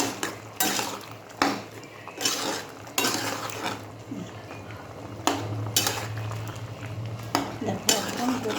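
A pot of taro curry on the stove being stirred, with repeated metal clinks and scrapes of a spoon against the pot in bursts over a low steady bubbling, close by, with a voice speaking briefly.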